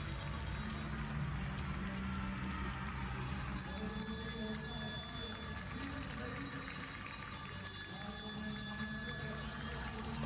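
A bell rings for the last lap of a women's 1500 m speed skating race at the world championships in Hamar, bright repeated ringing in two bursts over crowd noise and the rhythmic scrape of blades, with commentary underneath.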